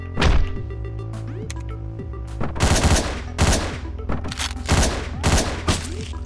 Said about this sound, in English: I shot him. I shot him a bunch of times.